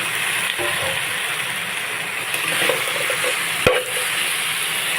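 Taro pieces drop into a hot pan and fry with a loud, steady sizzle, with a sharp clatter partway through and no talking.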